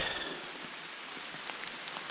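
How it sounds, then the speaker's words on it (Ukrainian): Rain falls steadily through a forest during a hunt for porcini mushrooms, a continuous soft hiss with scattered sharper drop taps and no voices. "І так небо нині щире на опади."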